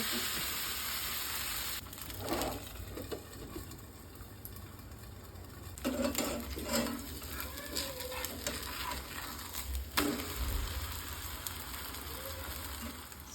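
Soft, steady sizzling of thalipeeth flatbread frying in oil on a hot griddle, with faint scraping and stirring sounds now and then; quiet throughout.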